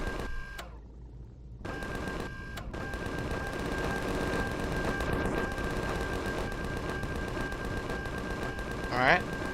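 Automated turrets in Empyrion Galactic Survival fire a steady rapid mechanical stream of shots that runs almost without pause after a short lull, with a voice talking over it.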